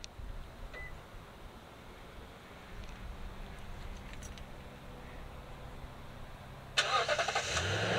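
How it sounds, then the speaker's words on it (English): A Toyota Tundra pickup's V8 engine cranks and catches, then runs at a low rumble after an earlier hum and a few faint beeps, close by and with no talking. "That V8, okay, I cannot get over it."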